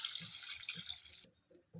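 Water pours in a short splashing stream into a pot of small-onion rasam while it cooks, then stops abruptly, leaving a few faint kitchen sounds.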